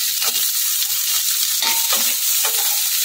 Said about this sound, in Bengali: গ্যাসটাকে একদম হাই রাখবো, হাই ফ্লেমে আমি এগুলোকে নেড়ে চেড়ে নেব।